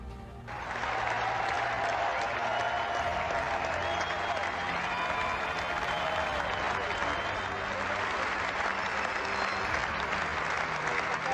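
Tennis match crowd cheering and applauding steadily after a match ends, a dense, loud wash of clapping and voices that holds evenly throughout without letting up.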